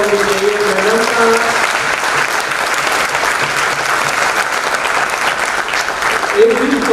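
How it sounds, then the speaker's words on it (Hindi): An audience at an insurance-agent training event applauds loudly and continuously, dense clapping filling the whole stretch, with a brief voice at the start and end. "एक बार इनके लिए जबरदस्त तालियां होनी चाहिए।"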